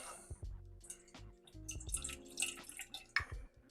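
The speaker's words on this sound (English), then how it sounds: "I take a jar of tomatoes and I just pour out all the extra water" Excess water pours and drips from a jar of tomatoes, a quiet run of splashes and trickles with irregular drips close by.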